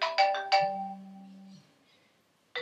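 A mobile phone rings with a few bright electronic chime tones and a sustained low tone, then stops and starts again briefly; loud and close, with no talk over it.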